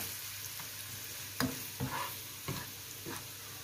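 Onions frying crisply in oil in a pot for Egyptian koshari, a steady soft sizzle with a few louder stirring scrapes and clinks spaced through it, close and alone without talk.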